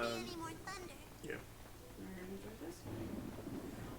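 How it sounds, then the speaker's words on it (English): Rolling thunder rumbles through a stormy scene in the video game Tales of Xillia 2, a low continuous roar with rain hiss, heard under game voices and music. "Any more thunder?"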